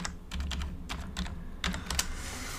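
Rapid keystrokes on a computer keyboard while a password is entered on a GNU/Linux desktop, a quick irregular run of close, light clicks with a soft low hum underneath.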